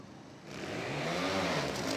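A trial motorcycle engine at an indoor X-Trial arena event revs up sharply after a quiet start, then holds a strong, climbing whine with rising pitch through the rest of the moment.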